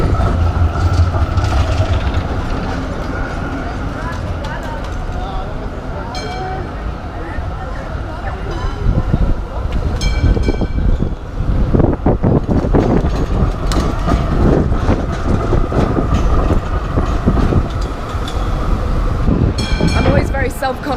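A tram rolls through Melbourne's busy city centre, its steady rumble and clatter loud and close for the whole stretch, with bright squeals and rattles on top and street noise and voices mixed in.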